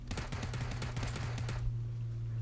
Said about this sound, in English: And I stopped shooting right before Striker steps in front of my line of fire